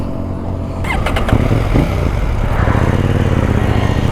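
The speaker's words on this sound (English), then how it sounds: "Look at the motorcycle. The power is like very sweet." A KTM 790 Duke motorcycle cruising on a highway, its engine humming steadily and loudly with a brief burst of clicks and throttle change before settling into a strong, even drone.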